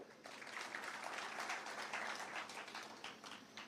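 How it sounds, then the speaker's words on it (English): Steady applause from a crowd, a dense patter of many hands clapping that holds at an even level for several seconds. "Please clap for them."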